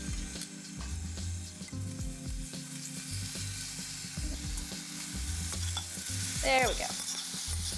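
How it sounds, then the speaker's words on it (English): Shrimp sizzle and crackle steadily in a hot pan, with stirring and scraping noises throughout and a short remark spoken over the cooking. "we're gonna heat up our pan. And we're just gonna cook our shrimp off."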